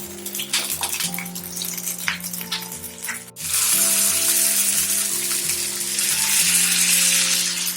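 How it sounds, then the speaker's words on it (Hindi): Potato rosti fritters frying in ghee in a pan over a medium flame, a close, loud steady sizzle that swells midway and stays strong, with faint stirring touches and light music underneath. "मैंने इसको सेकने के लिए घी लिया हुआ है।"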